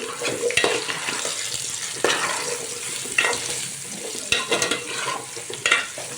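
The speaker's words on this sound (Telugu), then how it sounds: "గుమ్మడికాయలు వేస్తున్నాం వన్ కేజీ గుమ్మడికాయ కొంచెం బాగా మిక్స్ చేద్దాం" Pumpkin pieces fry in a hot pan with a steady sizzle while a spoon stirs them, scraping at intervals, loud and close with no talk.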